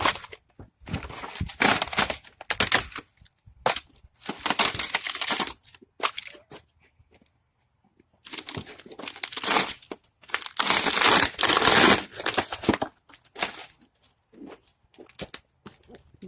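An LG flat screen TV panel being pulled apart and crushed by hand, loud bursts of crackling, crinkling and snapping in irregular clusters, separated by short quiet pauses.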